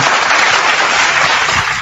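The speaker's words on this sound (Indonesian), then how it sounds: "bentar, biar tepuk tangan dulu." An audience at a church talk breaks into dense, loud, continuous applause, many hands clapping at once with no pauses.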